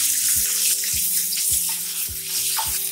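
Fifteen small shallots, sliced lengthwise, hiss and crackle in hot oil while cooking for sambar, a bright continuous sizzle close up with regular scraping stir strokes underneath.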